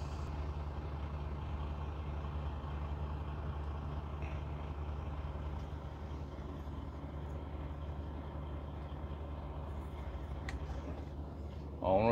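A truck drives onto the Ambassador Bridge toward Canada, its steady engine and road drone running evenly from the cab, with a brief louder bump at the very end.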